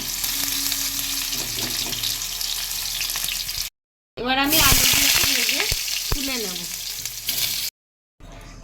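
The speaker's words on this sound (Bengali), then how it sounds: "ইঁচড়গুলো আমার ভারী সুন্দর করে ভাজা হয়ে গেছে" Jackfruit pieces coated in gram flour fry in hot oil with a loud, close, continuous sizzle. The sizzle is broken by two brief silent gaps, and a spoon stirs and scrapes through it.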